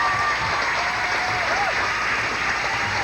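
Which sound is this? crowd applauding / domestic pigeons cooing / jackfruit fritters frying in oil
crowd applauding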